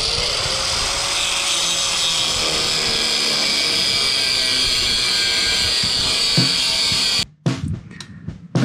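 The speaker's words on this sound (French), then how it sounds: "on va commencer dans un premier temps par meuler les anciennes charnières" Small angle grinder grinding old hinges off a metal FMX ramp under restoration, a sustained loud high whine for about seven seconds, then stopping abruptly into scattered clanks and handling noises.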